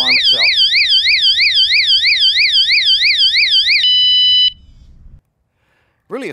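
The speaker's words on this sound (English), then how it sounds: "the alarm itself" A WSDCAM eBile bike alarm blares a loud warbling electronic siren that sweeps up and down rapidly for about four seconds, then switches to a brief steady tone and cuts off, followed by a short silence and the start of a voice.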